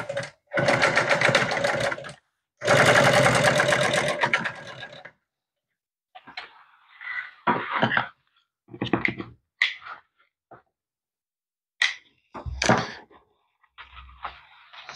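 A sewing machine stitches the front and back pieces of a boat cooler seat cushion together in two loud, steady runs, followed by quieter clicks, thunks and handling of the fabric.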